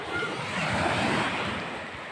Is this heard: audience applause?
no